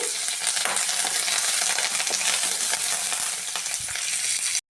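Steady, loud sizzling of chilies, garlic and cumin frying in hot oil, continuous and unbroken until it cuts off abruptly at the end.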